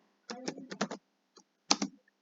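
Quick bursts of computer keyboard typing, a cluster of crisp keystrokes followed by a short pause and a couple more taps, close and clear with nothing else heard.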